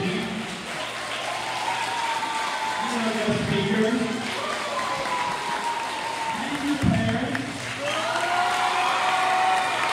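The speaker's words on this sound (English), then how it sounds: "Let's also give a round of applause to our fifth grade teachers" Sustained audience applause at a fifth grade graduation ceremony honoring the fifth grade teachers, steady clapping across the whole stretch with voices and cheers mixed in and a speaker talking over it at times.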